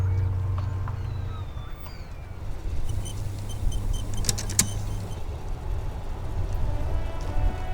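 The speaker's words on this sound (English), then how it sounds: "further yet, the sound of motor traffic" Motor traffic rumbles through a street scene in Disco Elysium, a steady low drone with passing engine hum and a few sharp clacks partway through, heard alone without talk.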